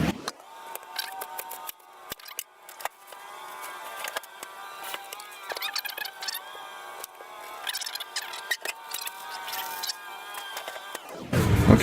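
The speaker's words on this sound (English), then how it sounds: "I'm on that onion, so we're gonna cut this stuff up" A knife cuts an onion on a board, giving a long run of crisp, irregular clicks and slicing snaps close by, with quiet gaps between bursts.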